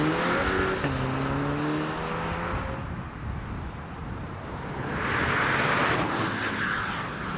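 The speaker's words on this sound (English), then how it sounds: "Let's go for a drive." A 2025 MINI Cooper S Convertible accelerates through its gears, with rising engine tones that drop at each shift, followed by a steady road and wind roar that swells again later. The sound is moderately loud and there is no talking.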